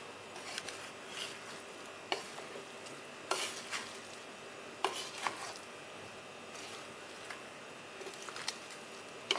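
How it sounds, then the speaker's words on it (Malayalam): Chicken biryani with nuts, raisins and fried onions in ghee being stirred in a pressure cooker, a quiet bed of faint crackle broken by sharp intermittent scrapes and clinks of the spoon against metal, no talking. "നമുക്കിനി ഇത് ഇളക്കിയെടുക്കാം."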